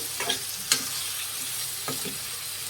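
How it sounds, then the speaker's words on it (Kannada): Chopped capsicum being stirred in a hot pan for a kurma, with a steady sizzle and a few scraping stir strokes, close and alone. "ಕ್ಯಾಪ್ಸಿಕಮ್ ಎಲ್ಲ ಅದನ್ನು ಇದಕ್ಕೆ ಹಾಕೋಣ ಫ್ರೆಂಡ್ಸ್ ಇದನ್ನು ಮಿಕ್ಸ್ ಮಾಡಿ"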